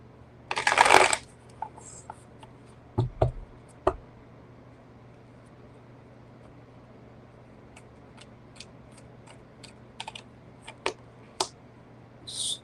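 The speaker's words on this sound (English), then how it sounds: "I need one more shuffle." Tarot cards are shuffled during a live reading, with one loud riffling burst, then a few sharper card slaps and scattered light ticks as the deck is handled. The cards sound close and no one speaks.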